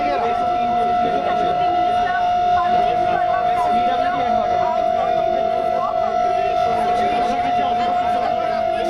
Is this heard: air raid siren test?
yes